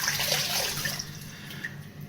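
Running water at a bathroom sink splashes and trickles as a face is wetted before a straight-razor shave, a steady close wash of sound with small splashes and no speech.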